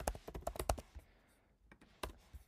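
An email address and password are typed on a computer keyboard in a quick run of close keystrokes, then a pause and a few more taps.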